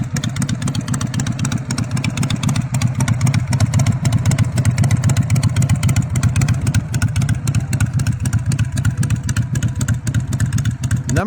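A Harley-Davidson FLH shovelhead motorcycle engine runs steadily, a loud, close, lumpy rumble with a rapid uneven beat that holds throughout without a break.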